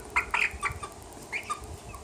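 Six-week-old chicks clucking and peeping indoors, a few short bursts of close, soft calls in quick succession with brief pauses between them.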